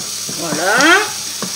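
Garlic and onions cook in a pan for mussels with Roquefort, a soft sizzle running underneath a short voiced sound that rises in the middle, with a few light taps.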